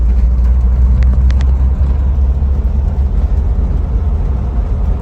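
A 2000 Jeep Wrangler drives around the block at night in fourth gear, its engine a loud, steady low rumble heard from inside the cabin with constant road noise and a few faint high clicks.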